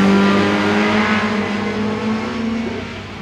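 A red rallycross race car, trailing a Mitsubishi Colt at the start, accelerates hard with a loud, sustained engine roar that dips slightly near the end.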